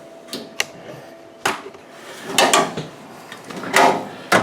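Drawers of a worn Husky portable tool box slide open and shut several times, each with a sharp metallic clunk and rattle, scattered irregularly and close by, no talk.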